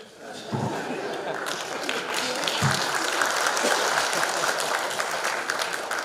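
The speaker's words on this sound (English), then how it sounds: "let us give him a round of applause for that" Steady applause rises from a meeting audience at a regional economic bloc sanitation and menstrual hygiene event. The clapping is sustained and fairly loud, with a couple of sharper knocks and a faint murmur of voices.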